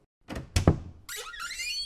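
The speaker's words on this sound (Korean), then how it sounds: "곧 삐걱거리는 소리와 함께 화장실 문이 열리는 소리가 들렸다." A bathroom door in a horror story is opened with a couple of sharp thuds, then a long bright creak that sustains to the end of the clip, close and moderately loud with no talking.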